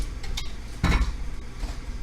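A large cooking pan is set down on a stove burner with one loud metallic clunk near the middle, after faint kitchen clatter.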